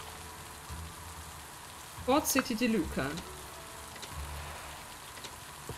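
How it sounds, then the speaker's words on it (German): Soft, steady rain patters in the video game Littlewood, quiet and continuous, while a voice speaks briefly midway through. "So, auch hier regnet es."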